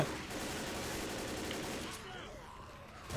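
Sustained rapid gunfire in Left 4 Dead, a dense continuous burst for about two seconds that cuts off, leaving quieter game sounds and faint voices.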